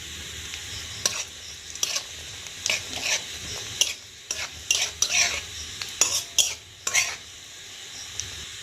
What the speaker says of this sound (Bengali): এর মধ্যে আমি গোটা জিরে দিয়ে দেবো, 2টো শুকনো লঙ্কা